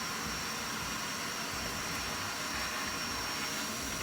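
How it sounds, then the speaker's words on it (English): A vacuum cleaner runs steadily while cleaning the interior of an RTV wagon, giving a loud, unbroken hiss and whine alone for several seconds. "This vacuum cleaner sucks!"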